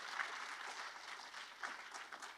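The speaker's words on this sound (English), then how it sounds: "Let's give him a round of applause." Faint, distant applause from an audience at a Black History celebration event, a soft steady patter with a few sharper claps, with no voices over it.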